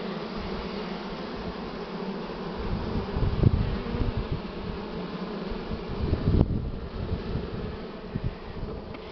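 Honeybees drone steadily around an opened hive with smoke being used on them, a dense close buzz that keeps going throughout, with a couple of brief knocks partway through.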